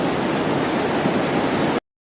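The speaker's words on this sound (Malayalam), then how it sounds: "എനിക്ക് ഭയങ്കര വെള്ളത്തിന്റെ സൗണ്ടാ" Loud, steady rush of a stream of water close by, a dense unbroken roar that fills the short stretch alone and then cuts off abruptly.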